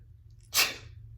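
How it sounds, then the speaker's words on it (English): A single sharp sneeze bursts out near the mic, loud and breathy, over a low steady hum. "the sneeze."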